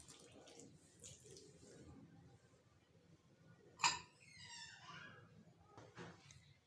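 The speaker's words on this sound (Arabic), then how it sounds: "احنا دلوقتي بنحط اللبن" Milk is poured gradually into dough while making homemade fino bread rolls, a faint, soft trickle with a brief sharper splash, under a quiet room background.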